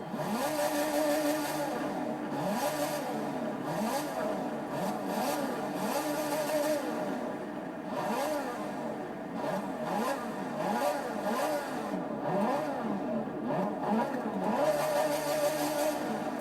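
A Ferrari 458's 4.5-liter V8 engine in Forza Horizon 4 revs repeatedly, rising and falling in pitch through gear changes, loud and continuous with a steady game-like mix.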